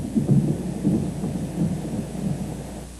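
Low rolling thunder rumbles in repeated swells over a steady wash of heavy rain during a thunderstorm with torrential downpour.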